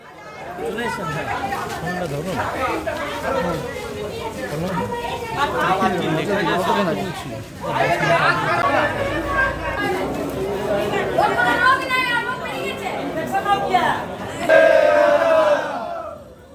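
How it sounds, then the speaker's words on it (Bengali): Family members protest outside a private medical college hospital as a dense, loud crowd shouts and chatters continuously. Angry voices rise in waves, with a sharper surge of shouting near the end. "হাসপাতালের সামনে বসে বিক্ষোভ দেখালেন তারা।"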